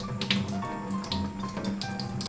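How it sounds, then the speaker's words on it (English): Tap water runs steadily into a sink, splashing and gurgling as shrimp are rinsed under the stream. "So please wash it off under running water."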